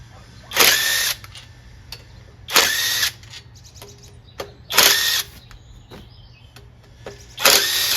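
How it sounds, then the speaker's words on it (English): A 1/2 inch impact wrench working on a Kohler Command 16HP engine gives four sharp, loud bursts of hammering, each lasting about half a second, with quiet gaps between them. "Might need the 1/2 inch impact."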